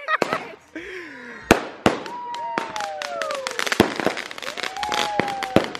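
Fourth of July fireworks in Nevada burst close by in a rapid run of sharp bangs and crackles, with whistling rockets rising between blasts and excited voices shouting throughout.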